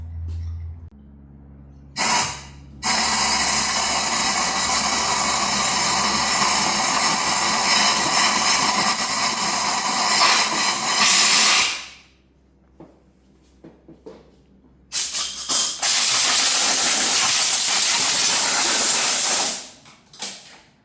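Compressed air blasting grease out of a car brake bracket, several long loud hissing bursts close by with short gaps of near silence between them and no voices.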